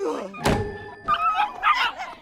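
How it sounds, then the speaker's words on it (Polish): Puppies in a Barbie cartoon give high yips and whimpery barks after a sharp thunk, with bright, excited vocal bursts in quick succession. "Szczeniaki!"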